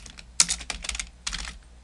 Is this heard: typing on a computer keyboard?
yes